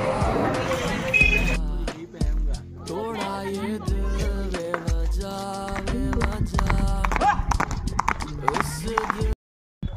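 Horse hooves clip-clop in a quick, steady rhythm during a horse ride at Mount Abu. The hoofbeats are close and loud, mixed with busy background sound and voices.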